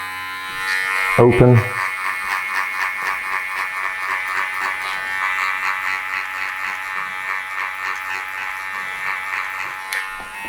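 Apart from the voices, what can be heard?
electric hair clippers with half guard cutting hair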